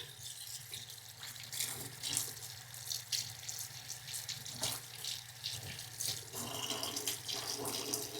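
A paintbrush used with oil-based and shellac finishes is rinsed under a running faucet, giving a steady, fairly quiet hiss and splash of tap water with small irregular spatters as the brush moves.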